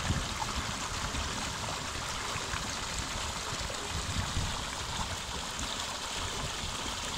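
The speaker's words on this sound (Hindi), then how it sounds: "पानी आप देख सकते हैं ग्लेशियर का पानी है, साफ शफाफ पानी है" Clear glacier meltwater flows steadily in a stream in the Shigar valley of Gilgit-Baltistan, a constant broadband rushing and gurgling with no voices over it.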